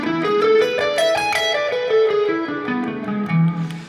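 An electric guitar with distortion and effects plays a dominant pentatonic scale note by note, rising and then falling in an even run, loud and close with no talk.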